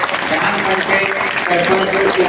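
A crowd claps loudly and steadily for a couple of seconds at a temple festival reading gathering, dense applause filling the space.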